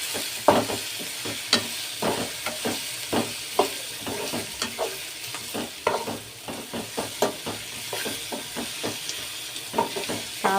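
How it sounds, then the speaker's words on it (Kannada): Chili powder frying in oil, a close sizzle broken by steady, repeated stirring scrapes and knocks of a spoon against the pan throughout, with no talk. "ಖಾರದ ಪುಡಿ ಚೆನ್ನಾಗಿ ಎಣ್ಣೆಲಿ ಫ್ರೈ ಆಗಬೇಕು."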